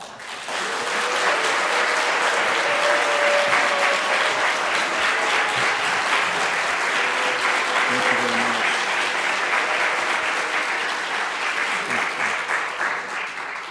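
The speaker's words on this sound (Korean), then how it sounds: "큰 박수로 맞이해 주시기 바랍니다" A lecture hall audience welcomes a visiting lecturer with long, steady applause, thick continuous clapping filling the room for over ten seconds at an even level, with faint murmured voices underneath.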